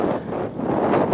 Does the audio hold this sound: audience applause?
no